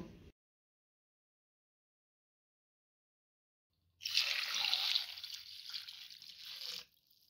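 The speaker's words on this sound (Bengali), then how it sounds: "আলুগুলো ভালো করে জল দিয়ে ধুয়ে পরিষ্কার করে নিয়েছি।" Water runs and splashes as small new potatoes are washed, a burst of pouring and rinsing after a long silence, fading into a gentler trickle before stopping.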